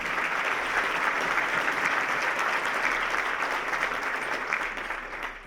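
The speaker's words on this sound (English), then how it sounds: "Please join me in giving everyone a round of applause." Sustained audience applause at a Chamber of Commerce event, a dense wash of many hands clapping at steady volume for several seconds, no voices on top.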